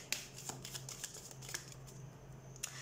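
Tarot cards are shuffled close up in a quiet room, a soft run of riffling flicks and light slaps, fairly faint and steady, with no talk.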